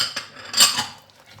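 A utensil scrapes and knocks through sablé dough of sugar and eggs in a bowl, giving a few short, close scraping clinks that rise and fall over a second or so.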